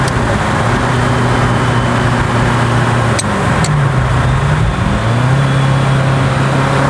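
Ferrari 348 Spider driving with a manual open gated gearbox, steady loud engine drone from inside the car, a gear change around the middle where the pitch drops and then climbs again; no talking.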